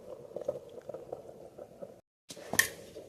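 Rice bubbles in a pot on a gas stove with a quiet, close, irregular blub-blub of boiling water, then breaks off into a brief silence before a sharper, louder bubbling burst returns.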